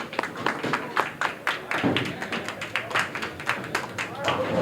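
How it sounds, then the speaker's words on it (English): A studio audience at a televised bowling show claps for its returning champion, a dense round of hand claps that swells, dips briefly and picks up again, steady and close throughout. "Let's hear a big round of applause from the studio audience."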